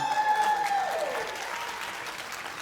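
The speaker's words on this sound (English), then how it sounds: "If we can give our second graders another round of applause." An audience applauds a second-grade read-aloud competition winner at a school district literacy day, steady dense clapping that fades slightly, with a brief whistle-like tone at the start.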